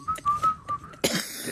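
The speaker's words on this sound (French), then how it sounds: "Je sifflote." A person whistles a short, lilting tune with a few sustained notes, then a sudden burst of broadband noise cuts in near the end.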